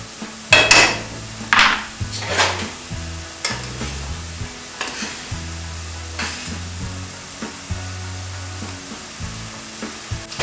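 Mushrooms and tomatoes frying in a pan for a pasta dish, with a steady low sizzle under intermittent stirring, utensil scrapes and clinks against the cookware, close and moderately loud, with no talking.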